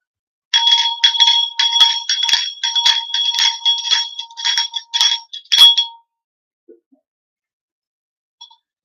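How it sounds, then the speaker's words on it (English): A small bell rung over and over in quick bright strikes for about five seconds, loud and close, its clear metallic ringing trailing off into silence with a couple of faint later taps. "let's ring the bell and clear your energy"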